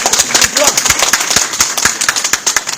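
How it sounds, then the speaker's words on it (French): An audience at a Guinean community meeting claps in a steady, dense patter of many hands, loud and close, with voices mixed in. "Applaudissez pour nous."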